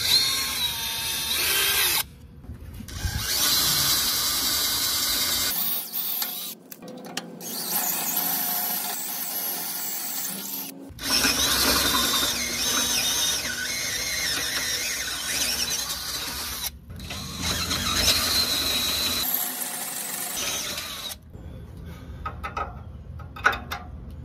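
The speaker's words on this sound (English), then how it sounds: "Start off with a smaller drill bit, and then I'm gonna work my way up a little bit bigger each time." Power drill boring holes through a steel boat trailer frame with progressively larger bits and a step bit, long loud whining bursts separated by brief pauses, with no talking.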